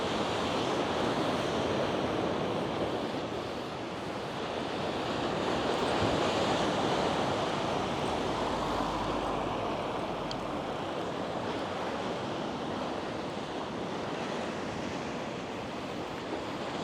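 Surf rolls steadily onto a wide sandy beach near Kato Gouves on Crete, a continuous close wash of breaking waves with some wind buffeting the microphone and no voices.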